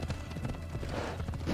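Horse hooves clip-clopping in the Assassin's Creed Odyssey video game, a quick, steady trotting rhythm of soft hoofbeats under faint background game ambience.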